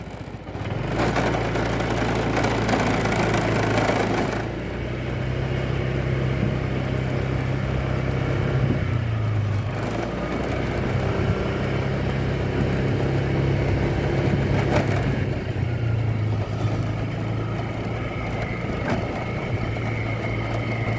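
Honda PCX160 scooter engine on a riding test, a steady continuous drone held close and loud throughout, with small shifts in pitch as the throttle changes and a brief dip around the middle.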